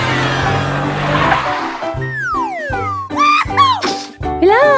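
Cartoonish toy car effects ring out loud and close: a revving engine, then a series of sharp, swooping tire squeals and skids in quick bursts separated by short gaps.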